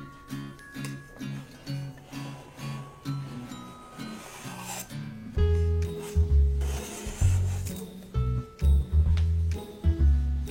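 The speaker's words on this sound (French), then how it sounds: "je peux découper deux disques égaux avec un couteau d'office." A paring knife cuts discs from puff pastry on a work surface, giving repeated short rubbing, scraping strokes in an uneven rhythm, close and fairly loud, with firmer knocks in the second half.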